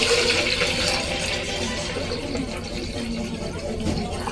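Water is poured into a jar for an apple peeling hack, a continuous splashing, gurgling stream at close range that keeps going steadily without pause.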